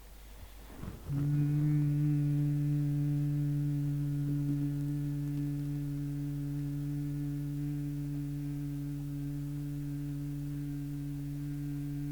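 A long, steady hum held on one low pitch, made with the mouth closed during a yogic bhramari breathing exercise, starts after a brief inhale and is sustained evenly, close and clear.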